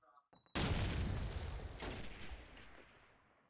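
A grenade blast in Call of Duty 2 bursts in suddenly and loudly after a brief quiet lead-in, then rolls off into a long decaying rumble with scattered gunfire mixed in.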